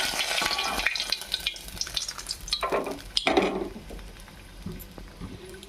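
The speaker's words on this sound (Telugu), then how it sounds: "అవి కొంచెం ఫ్రై కానిద్దామండి." Ingredients frying in a pan for mint rice, with steady sizzling and bursts of stirring scrapes, loudest in the middle, then settling to a softer sizzle near the end.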